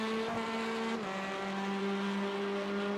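Touring cars racing in a British championship round at Oulton Park, a steady loud engine drone with a shifting pitch as a queue of cars runs nose to tail, alone without talk.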